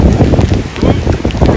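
A strong storm of wind and heavy rain, with trees bending, roars loudly in dense, gusting bursts with rain noise, buffeting the microphone and making it rumble.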